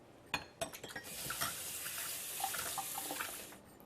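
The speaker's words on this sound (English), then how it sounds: "I'm just going to rinse this off so that all I have left is the kefir grains" Tap water runs steadily into a sink as kefir grains are rinsed in a strainer, with a few light clinks of utensils at the start and a soft, continuous splashing flow.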